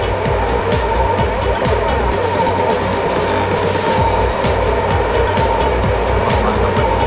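A bus engine in Bus Simulator Indonesia roars steadily under acceleration, loud and continuous with a droning low rumble and a constant rushing texture, with no pause.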